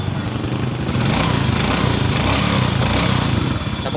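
A Honda XRM110 motorcycle engine runs steadily after a second gear replacement, giving a close, even, buzzing putter with a rapid regular beat and no talking over it.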